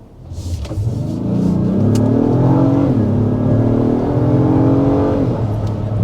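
A 2025 Acura MDX Type S with 355 horsepower accelerates hard toward about 55 mph, its engine note rising in pitch through a gear change, loud and steady inside the cabin.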